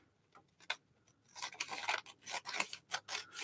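Paper stamp designs cut out with scissors, several short close snipping strokes, sparse at first and then coming in quicker, busier runs, with no talking.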